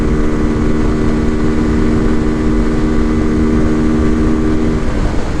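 A Morbidelli F125 125cc motorcycle engine pulling hard under acceleration toward 60 mph, a loud, steady buzzing drone close up, with constant wind rush and no talking.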